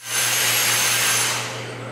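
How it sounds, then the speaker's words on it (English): A steady, loud motor whine with a high-pitched hum, running continuously and easing off slightly toward the end. "we're looking at"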